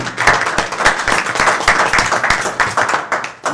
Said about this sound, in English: Barry really needs a round of applause from all of us